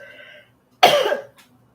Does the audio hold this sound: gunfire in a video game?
no